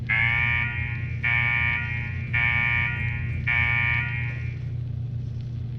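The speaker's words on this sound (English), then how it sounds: "What the hell is that alarm?" A loud electronic alarm in the video game Fallout blares in four long, steady pulses over a low rumbling drone, then fades out.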